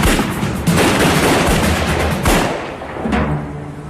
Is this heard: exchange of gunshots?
yes